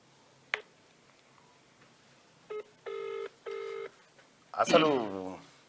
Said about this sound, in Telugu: సిద్ధేశ్ అన్నకు ఒకసారి ఫోన్ కలుపు